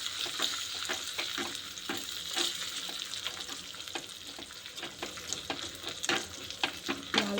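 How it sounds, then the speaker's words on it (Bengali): Garlic and coriander leaves fry in a pan with a dense, continuous sizzle, broken by frequent scraping stirs of a spatula, close and fairly loud with no talking. "ভালো করে আমি ভেজে নেব"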